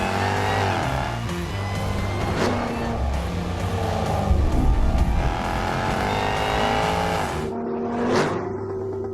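A 600-horsepower manual road-legal sports car accelerates hard on a race track, its engine roaring loudly and continuously with rising revs, a brief tire squeal, and a sharp shift near the end.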